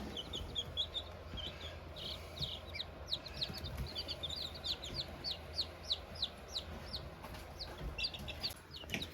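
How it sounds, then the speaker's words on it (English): Chickens clucking and calling repeatedly in a backyard coop, a dense flock of short overlapping clucks at moderate distance over steady background noise, with no talking. "I remember there being a lot less chickens in here than that."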